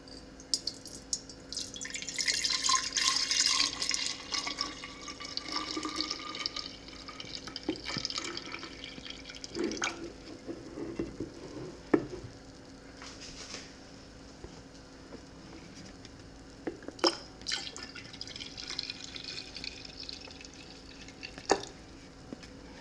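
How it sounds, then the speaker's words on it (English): Homemade kompot pours and splashes into a container, a steady trickling stream with occasional drips and clinks, close by and without talk. "I'm gonna just attempt to pour it in here."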